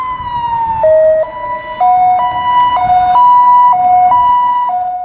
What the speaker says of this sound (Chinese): 救护车鸣笛声划破黑夜，从赏金码头急驶出来。